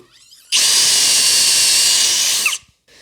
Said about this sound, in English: Not only am I drilling into plywood, but that bit is brand new and very, very sharp.